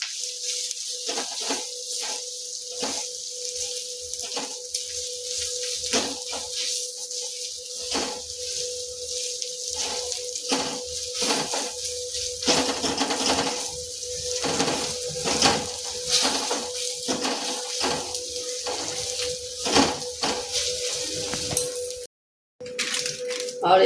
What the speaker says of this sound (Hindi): इसे भून लेंगे।